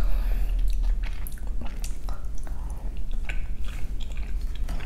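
Korean galbi short ribs being bitten and chewed close to the mic, with steady wet mastication and a few sharper crunchy bites over about five seconds, no talking.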